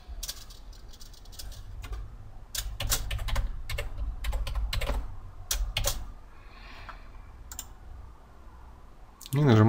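A password is typed on a computer keyboard in quick bursts of clicking keystrokes with brief gaps, and a low room hum sits underneath.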